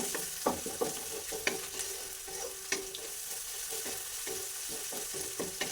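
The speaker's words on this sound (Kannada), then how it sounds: "ಈರುಳ್ಳಿ ಫ್ರೈ ಆಗಿ ಸ್ವಲ್ಪ ಉಪ್ಪನ್ನ ಸೇರಿಸ್ಕೊಳ್ಳೋಣ" Onions fry in a pan with a little salt, a soft continuous sizzle broken by repeated scraping strokes of a spoon stirring them, close and fairly quiet.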